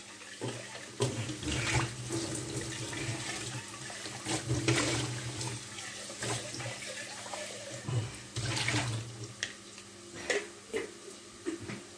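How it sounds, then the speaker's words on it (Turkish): Water from a kitchen sink tap runs steadily as leftover morning tea is poured out, a close, continuous splashing with a few sharper clinks and bursts. "Sabahki çayım var içinde onu dökeyim de"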